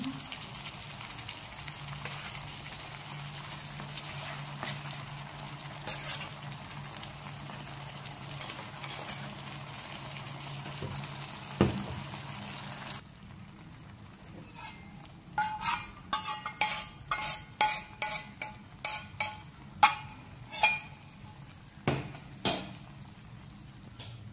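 Cooked brown rice is tipped into a pan and stirred, with a steady background hum before a run of sharp metallic clinks and scrapes of a spoon against the pan, irregular and close.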